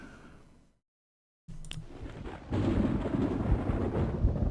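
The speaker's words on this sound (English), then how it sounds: "Thunder." A low, heavy rumble of thunder rolls in after a brief silence and builds into a sustained, broad roar.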